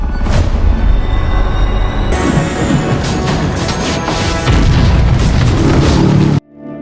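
An explosion in an animated film, a loud sustained booming blast with crashing debris that rumbles on for several seconds before cutting off abruptly.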